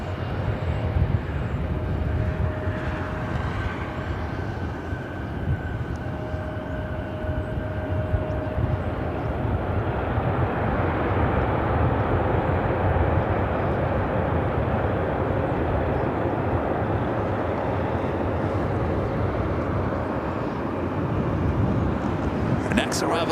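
A jet airliner on arrival at LAX, landing on the north side, roars steadily and fairly close for over twenty seconds, with the rumble swelling toward the end and radio-style voices talking faintly underneath.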